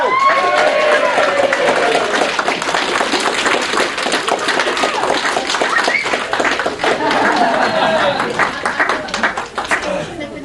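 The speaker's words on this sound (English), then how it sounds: "So, round of applause for Phil" Applause from a convention audience at a closing ceremony, greeting the announced winner: dense, steady clapping with scattered voices and chuckles mixed in, fairly loud, tapering slightly toward the end.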